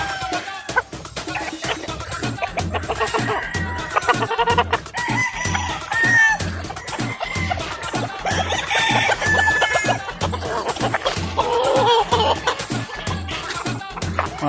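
Pet roosters crow and cluck close by, with repeated loud crows and steady clucking running through the whole stretch.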